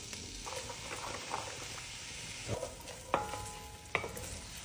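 Onion sautéing in melted butter in a pan on the stove, a soft, steady low sizzle with occasional stirring scrapes and light clicks, fairly quiet and close, with no voices.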